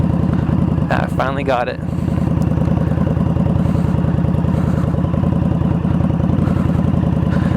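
Victory Octane motorcycle fitted with an RPW full exhaust, idling loud and close with a steady deep throbbing rumble throughout, while someone briefly speaks over it near the start.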